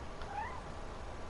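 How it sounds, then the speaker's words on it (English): A single short, faint meow from a cat in the video game What Remains of Edith Finch rises softly over quiet background ambience. "Is that a cat?"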